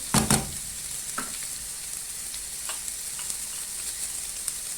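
Vegetables sautéing in a pan before spices go in, a steady faint sizzle with a couple of sharp clatters at the start and light stirring knocks later, no talking.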